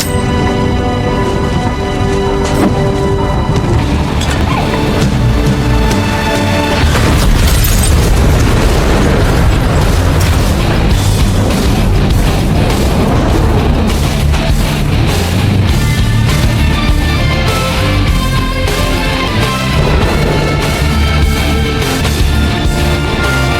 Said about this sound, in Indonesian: melemparkan sebuah granat yang kemudian memicu ledakan hebat